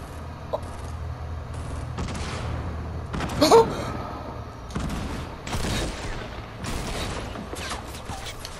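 Shotgun blasts from a double-barrel shotgun in Fortnite ring out as several scattered heavy bangs among clunky mechanical clicks and handling noises in the game.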